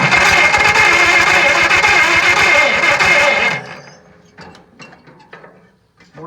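An Oliver 60 tractor engine with a freshly fixed carburetor runs loud and close with a rough, pulsing throb while the choke is adjusted, then drops off sharply after a few seconds, leaving quieter scattered clanks.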